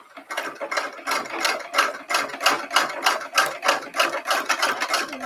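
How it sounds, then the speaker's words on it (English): A sewing machine stitches fabric with a fast, even mechanical clatter, each stroke distinct and close, running continuously without talk. "let's get to the sewing again"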